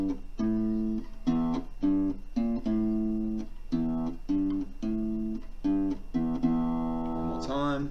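A simple guitar melody read from tab, played as single plucked notes in an even, unhurried rhythm, each note ringing briefly before the next. It is close and moderately quiet, with no voices.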